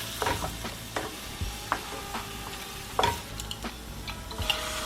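Minced garlic and onions sizzle in olive oil as a utensil stirs them in the pan, with a steady frying hiss broken by several distinct scraping strokes and taps, close and moderately loud.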